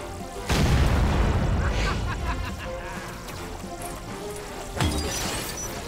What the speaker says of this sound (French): Je dois choisir une bonne cachette pour éviter les explosions.